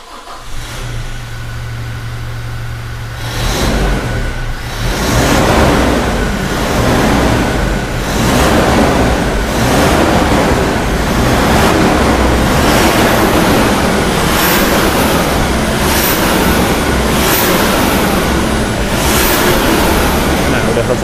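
A Toyota Fortuner 2.4 diesel with an equal-length header and stock muffler idles, then revs repeatedly in loud, rising bursts, its engine close and dominant throughout.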